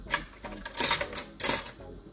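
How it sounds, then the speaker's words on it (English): A spoon picked up from among dishes while frying akara bean balls: several quick metallic clinks and clatters of cutlery against crockery, close and irregular, with no talking. "So I'll just get a spoon."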